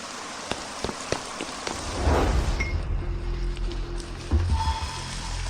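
Rain patters on a surface with a few sharp drips at first, then swells into a denser, louder hiss of steady rainfall with a low rumble underneath.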